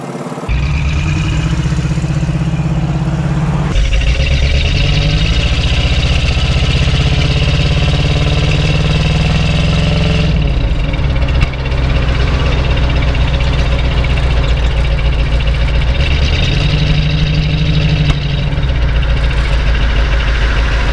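Classic Ford Mustang Fastback V8 idling close by, a steady loud low rumble with a lumpy, crackling burble that swells with a few brief blips partway through, and no talk over it.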